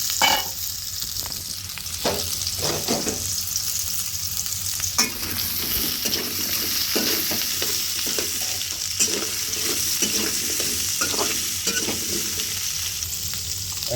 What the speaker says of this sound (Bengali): আলুর দম রান্না করার জন্য আলুগুলো আগে ভেজে নিতে হবে।